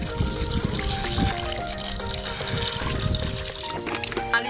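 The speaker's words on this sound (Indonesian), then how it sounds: "kita tinggal cuci sampai bersih" Black glutinous rice being washed in water, with soft splashing, swishing and trickling that stay fairly quiet against a faint background hum.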